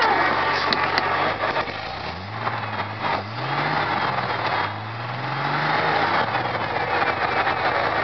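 A Ford F-250 engine with a cherry bomb exhaust, rumbling close by while the engine revs up and settles several times, each rise giving a low swelling drone over a noisy background.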